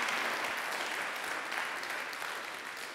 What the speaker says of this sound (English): Can you give a huge round of applause to Viv just for being awesome